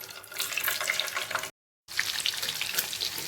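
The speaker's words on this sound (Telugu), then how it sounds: "ఆయిల్ హీట్ అయ్యాక ఇలా ఎగ్స్ వేసి ఫ్రై చేసుకోవాలండి" Eggs frying in hot oil in a pan, a steady close crackling sizzle with a brief cut of silence midway before the spitting resumes.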